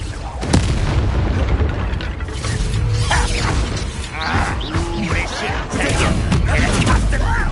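Confringo explosion spells burst in a Harry Potter-style video game, with loud, dense blasts and crashing rumble throughout, mixed with shouting voices.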